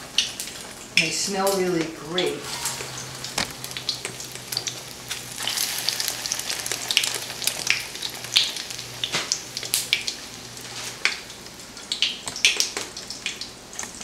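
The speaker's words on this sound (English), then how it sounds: "After you check that the oil is hot enough, it should sizzle." Constant crackling sizzle of eggplant frying in hot oil, close by, with occasional pops and a brief spoken remark early on.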